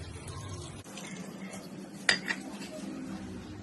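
A utensil clinks and scrapes against a bowl while tempura flour batter is stirred with ice water, faint and close, with one brighter clink partway through.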